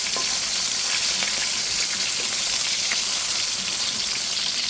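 Flipped tilapia fillets sizzle hard in hot oil, a loud, dense, continuous frying hiss with scattered pops that holds steady throughout, no talking.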